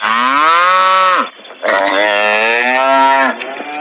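A buffalo moos loudly and close as a sound effect in a Hindi horror story, two long drawn-out lowing calls with a brief pause between them.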